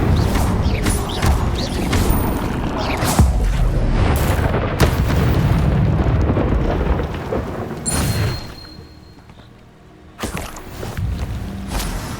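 An Incendio fire spell is cast in Hogwarts Legacy, a loud rumbling blast with booming crashes and sustained roaring rushes of fire, followed by a brief lull and then more rumbling, close and dominant with no talking.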